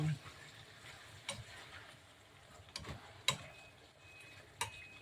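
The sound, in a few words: stirring the igado while it cooks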